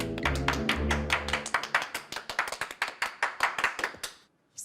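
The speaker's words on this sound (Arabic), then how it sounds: "تصفيق حاد بعد إذنكم" Rhythmic, evenly spaced hand claps ring out close and crisp, a few tonal music notes sounding under the first second and a half before the claps run on alone and stop abruptly.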